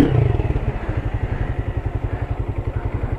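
Motorcycle bumping down a staircase in second gear, its engine running steadily while rhythmic thuds and clatter from each step repeat quickly and evenly, close and loud.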